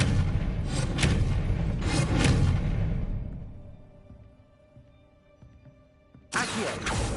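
Expelliarmus disarming spell cast in Hogwarts Legacy, a heavy booming burst with a rushing swoosh that fades into a low ringing tail, then another loud impact surges in near the end.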